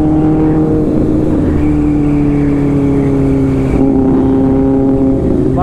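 A sport motorcycle, either a Ducati Monster 797 L-twin or a Kawasaki Ninja ZX6R inline-four, pulls hard in sport mode during a drag race, its loud engine note rising through the revs with a brief dip at a gear change.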